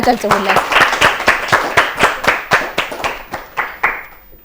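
A studio audience at a children's television quiz show claps to reward a contestant's correct answer. The applause comes as a dense burst of rhythmic hand claps that gradually thins out, and a voice speaks briefly at the start.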